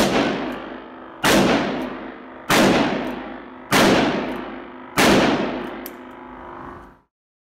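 A Ruger Blackhawk revolver fires five loud shots at targets, spaced a little over a second apart, each with a sharp crack and a long ringing decay.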